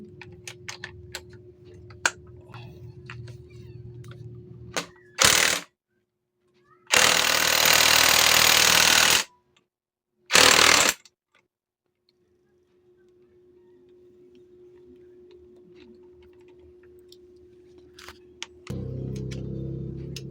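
Loosening the castle nut on a motorcycle primary clutch assembly during a clutch lining replacement: a few loud, sharp bursts of tool noise, one long sustained run of several seconds, between low mechanical hum and quiet clicks, with no talk.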